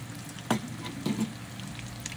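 Haitian patties (paté kòdé) fry in hot oil, giving a continuous near sizzle with a couple of soft bumps as the pieces shift, and no voices.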